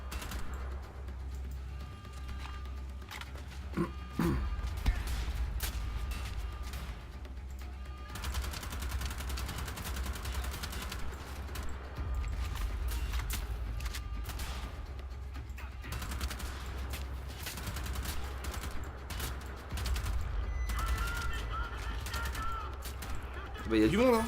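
Gunfire from the player's weapon in the shooter game Wolfenstein: The Old Blood, with bursts of sharp, rapid shots cracking out repeatedly over a low steady game background, some volleys loud and close, others sparser.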